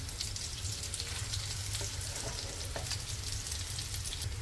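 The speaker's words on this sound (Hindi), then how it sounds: "इसको फ्राई होने देंगे, गैस का फ्लेम लो कर देंगे।" Sindhi chana dal patties fry in a pan over a low gas flame, giving a steady, dense sizzle and crackle that runs unbroken throughout, with a few faint clinks standing out against it.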